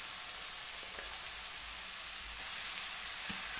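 Finely chopped raw papaya sizzles in a hot pan for thoran, a soft continuous frying hiss with faint stirring clicks, close and steady, no voices.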